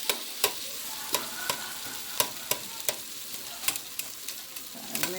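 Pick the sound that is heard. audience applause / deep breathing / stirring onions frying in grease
stirring onions frying in grease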